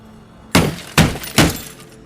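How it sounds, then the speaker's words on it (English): A hammer smashes a sturdy intercom casing with three sharp, loud cracking blows in quick succession, each a crisp breaking impact that rings briefly before the next, no voices. "He took a hammer and started hitting the hated intercom until he smashed the sturdy casing."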